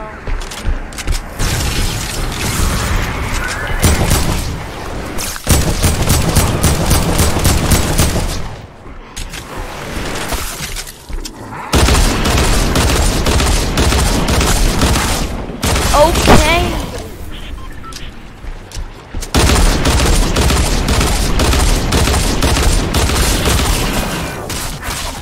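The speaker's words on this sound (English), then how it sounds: "I can hear someone shooting" Gunfire in a video game, with loud, dense volleys of shots and booming blasts close up that fill most of the stretch and break off in short pauses.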